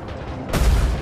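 Spaceship missiles launching in Star Citizen: after a low steady hum, a loud whooshing boom erupts halfway through and sustains as a dense rumbling roar.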